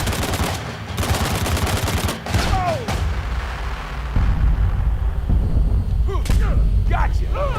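P90 submachine gun fire in Uncharted 4 multiplayer, rapid bursts of automatic shots mixed with explosions and game effects, loud and busy throughout.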